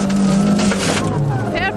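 A car pulls away under acceleration during a driving lesson, its engine note rising over the short stretch, with people talking over it throughout.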